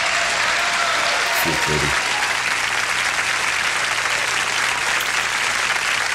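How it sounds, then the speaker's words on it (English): A crowd gives a standing ovation at a live music event. Dense applause runs steadily for about six seconds, with a brief voice speaking over it near the start and a low hum underneath. "Standing ovation."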